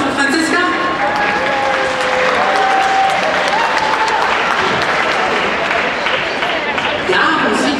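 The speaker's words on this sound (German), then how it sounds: "Einen großen Applaus" Sustained, loud audience applause at the MCC 2015 anime convention's Sailor Moon panel, dense clapping filling the hall throughout with a few voices and cheers mixed in.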